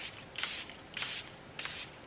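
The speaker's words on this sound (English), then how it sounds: "I'm gonna go ahead and set my face with the Charlotte Tilbury setting spray" Three quick hissing bursts of Charlotte Tilbury setting spray misted onto a face, each about a third of a second long, close and fairly soft, with no talking.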